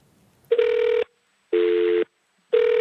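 A telephone line connects during a live TV news phone link, sounding three evenly spaced electronic ringback tones, each about half a second long with short silent gaps between them. No one speaks.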